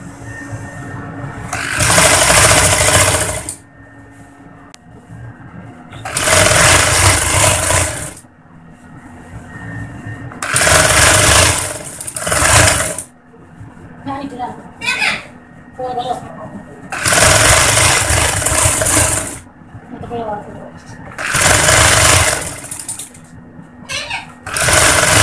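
A sewing machine stitches the seams of a ladies' pajama trouser in repeated loud whirring runs of a few seconds each, separated by quieter pauses where someone talks.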